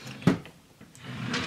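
A drawer in a makeup collection storage unit slides and knocks shut, a single sharp thud near the start followed by faint rustling and shifting.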